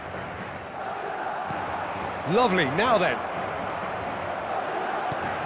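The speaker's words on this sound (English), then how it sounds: "the crowd level has gone up a notch or 10" A stadium crowd roars in a football video game, a loud, steady wall of cheering held throughout while a commentator speaks briefly over it.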